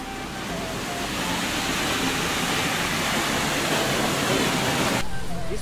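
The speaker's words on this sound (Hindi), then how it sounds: "इस वाटरफॉल का नाम है ब्लू लगून वाटरफॉल, जो कि बेहद खूबसूरत है।" Steady, loud broadband rush of the Blue Lagoon waterfall in Meghalaya, a continuous roar of falling water filling the scene from start to finish without pause.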